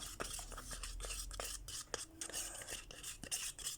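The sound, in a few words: stirring resin mixture in a container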